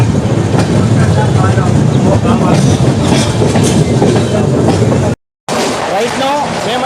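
SW Jainthe SF Express passenger train running between Tirupati and Hazrat Nizamuddin, a steady loud rumble with rhythmic clickety-clack of wheels on rails, a brief dropout near the end, with a voice talking over it.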